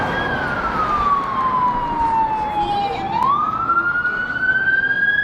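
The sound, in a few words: police sirens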